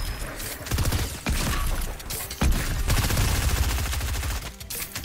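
SMG and other automatic gunfire in a battle royale video game, with rapid bursts of shots and sustained volleys that are loud and dense, along with mechanical clatter and impacts throughout.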